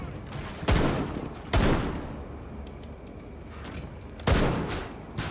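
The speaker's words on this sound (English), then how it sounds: "those fireworks are there to distract you from the gunshots" Gunfire in the video game Rainbow Six Siege: three loud, sharp blasts spaced a second or more apart, each trailing off into a booming echo.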